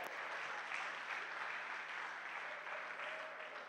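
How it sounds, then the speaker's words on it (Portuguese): Applause from a church audience as a man named Paulo steps down from the stage, a soft, even patter of many hands clapping, heard quiet and somewhat distant, fading slightly toward the end. "Um aplauso para o Paulo enquanto ele desce do palco"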